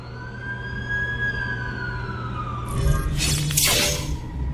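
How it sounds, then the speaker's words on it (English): An ambulance siren wails in a long, slowly falling sweep over a low engine drone, and then a sudden burst of crashing, shattering noise breaks in near the end. "That's the ambulance I called."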